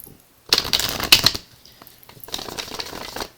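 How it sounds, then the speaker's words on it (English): A deck of tarot cards is riffled and shuffled in two crisp, rapid bursts, close and loud, with a quieter rustle between them. "I have 2 more shuffles to go."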